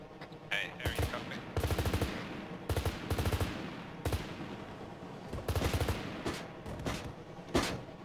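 In the ARMA 3 military game, an AH-1 Cobra helicopter's nose gun fires in about half a dozen loud rapid bursts, separated by short pauses over a low background rumble.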